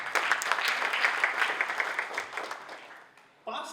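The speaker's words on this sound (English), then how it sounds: "a huge round of applause for each one of you for being here today" Applause from the audience at an architecture and interior design debate event in Pune, steady clapping that fades out toward the end before a brief new sound.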